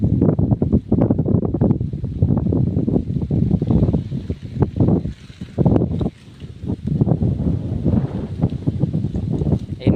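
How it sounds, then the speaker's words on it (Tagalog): Strong wind buffets the microphone outdoors on high ground in Barangay Pamplona, a loud continuous rumble with gusty surges that dips briefly midway and then returns. "Guys, napakahangin oh."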